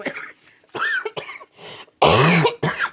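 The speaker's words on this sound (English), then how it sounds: "I'm going to cough. I apologize." A few short, rough coughs and throat-clearing sounds from someone close by, spaced out with brief pauses between them.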